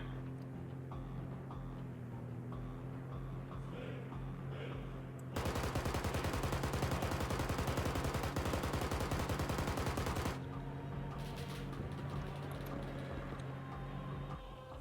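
Machine gun strafe in Arma 3, a dense rapid burst of fire lasting about five seconds, loud against a steady low engine drone before and after.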